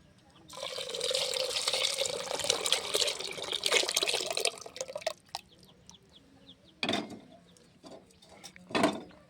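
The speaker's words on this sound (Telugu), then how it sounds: "ఇప్పుడు పప్పుని ఇందాక తీసిపెట్టిన నెలల్లో పోసేస్తా" Cooked dal poured from a pot into a pan, a thick liquid stream splashing steadily for several seconds, followed by a few separate glugs and drips, close by.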